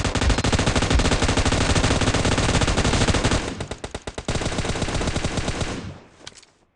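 Rapid automatic gunfire in the mobile game PUBG Mobile, dense loud bursts of machine-gun shots that break into shorter volleys before trailing off into a few final shots.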